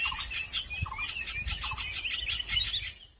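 Birds in the Amazon rainforest chirp in quick repeated bursts, a rapid high twittering series that carries on steadily for several seconds against faint low rustling, moderately near and clear.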